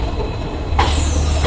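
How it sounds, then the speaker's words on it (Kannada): A passenger train starting to move out of Yeshwantpur station, a loud low rumble of wheels and cars that grows heavier partway through, heard close from on board. "ಓಹೋ, ಟ್ರೈನ್ ಇಸ್ ಸ್ಟಾರ್ಟೆಡ್."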